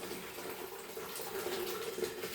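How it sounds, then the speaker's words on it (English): A steady stream of boiled water pours continuously from a kettle into a vessel, a full, even gushing with no talking. "one kettle of boiled water"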